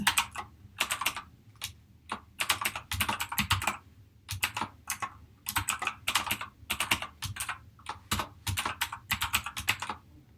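Typing a password on a computer keyboard while setting up a Windows login, close and clear, in quick bursts of rapid clicking keystrokes with short pauses between runs.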